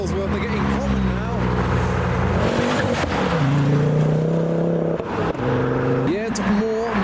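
Fast Ford performance cars roll into a car show, engines revving hard in rising and falling sweeps with brief tyre chirps, loud and close, layered over one another for several seconds.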